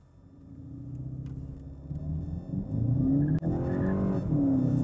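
A 2019 VW Golf GTE plug-in hybrid accelerates hard under full boost. A low engine rumble swells into a rising, strained roar as it climbs through the revs, heard from inside the car with no voices.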